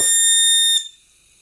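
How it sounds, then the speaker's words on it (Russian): A homemade electronic proximity sensor emits a steady high-pitched shrill tone, close and loud, cutting off abruptly before a second of near silence. "Вот это звуковой датчик приближения"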